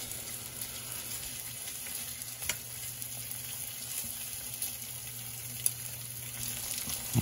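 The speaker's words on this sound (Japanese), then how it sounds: "ソーセージも転がしながら焼き目をつけていきます。" Sausages sizzle in a frying pan, a steady close crackle and hiss with occasional sharp pops, continuous without voices.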